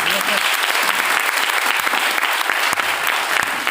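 Loud, dense applause from a crowd at a training event in a banquet hall, continuous clapping that fills the whole few seconds up close.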